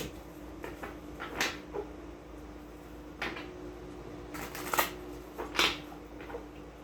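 Tarot cards being shuffled by hand, a series of soft riffling and slapping bursts at irregular intervals, close and quiet against a faint room hum, with no voices.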